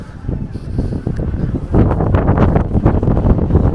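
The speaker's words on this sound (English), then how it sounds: "The wind is picking up" Strong wind buffeting the microphone on the Llandudno seaside promenade, a loud continuous rumbling roar that grows stronger partway through.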